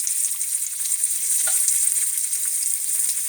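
Bitter melon fries in a pan after browning for about three minutes, a bright, even, hissing sizzle that holds steady throughout and is heard alone, close up.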